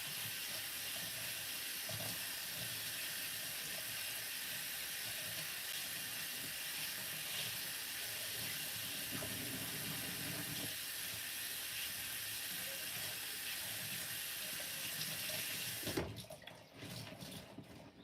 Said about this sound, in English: Now let me rinse it out.